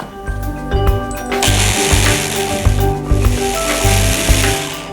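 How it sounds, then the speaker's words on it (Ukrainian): A blender whirs loud and close as it mixes soft garlic butter with parsley leaves and salt. The motor runs in short pulsed bursts with brief dips between them, and no one speaks. "Вже блендер нам більше не потрібен буде"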